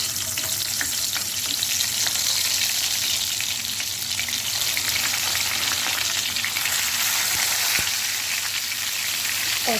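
Stuffed eggplants fry in hot oil in a kadai with a loud, dense, continuous sizzle and crackle that holds steady for the whole stretch, with no voices.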